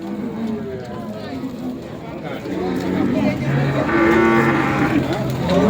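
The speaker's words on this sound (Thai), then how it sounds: "มีควายอยู่ฝูงหนึ่งเว้ย" Buffalo low and moo in overlapping calls from a herd, fairly close, at a cattle market, with people talking and outdoor background noise throughout.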